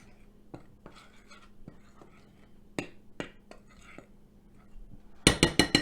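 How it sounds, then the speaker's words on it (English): Light clinks and taps of a utensil against a bowl while dry chicken pot pie ingredients with salt are stirred together, soft and close, ending in a quick burst of louder scraping strokes. "I'm just going to give that a little mix."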